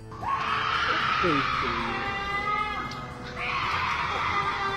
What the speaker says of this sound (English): Sounds like a screech that goes right through your ears and sticks into your heart